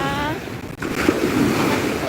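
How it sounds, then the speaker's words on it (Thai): Sea waves wash loudly over a sandy beach, a continuous rushing surf mixed with wind buffeting the microphone. "มาเหยียบทรายนุ่มๆ น้ำทะเลฉ่ำๆเย็นๆ"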